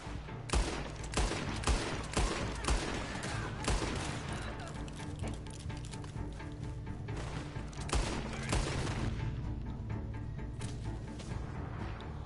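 Repeated shotgun blasts and scattered gunfire in Red Dead Redemption 2, irregular sharp reports spread across the stretch at moderate loudness, with faint game ambience between shots.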